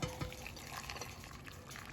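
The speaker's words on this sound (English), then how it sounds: "So the water is now boiling." Water boiling for rooibos tea, a soft continuous bubbling and liquid wash heard close but faint, with no talk over it.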